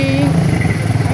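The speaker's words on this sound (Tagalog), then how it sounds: "Kasi sinusubukan na namin yung motor namin." Motorcycle engine running steadily on a test ride through a narrow alley in Binondo, a loud low rumble throughout with people talking over it.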